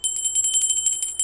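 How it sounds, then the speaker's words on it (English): Notification bell sound effect, a bright, high metallic ringing in quick repeated strikes, rapid and fairly close, heard alone with no talk. "Post that notification bell."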